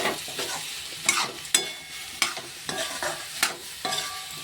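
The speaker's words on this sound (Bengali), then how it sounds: "ভেজে রাখা আলুগুলো দিয়ে দিলাম, দিয়ে মশলার সাথে ভালো করে কষিয়ে নেব।" Fried potatoes stir-fried with dry spice masala in a pan, a spatula scraping and clattering in irregular strokes over a soft steady sizzle, close and alone without voices.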